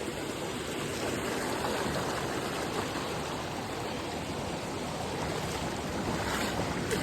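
A small river running through a forest, its steady broadband rush of flowing water continuous and fairly close for the whole stretch, with no voices over it.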